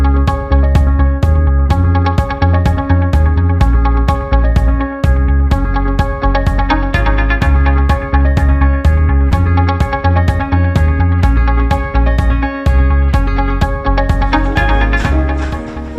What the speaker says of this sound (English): That's the sound of a lullaby,